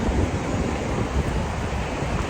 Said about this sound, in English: the gates are overtopping with water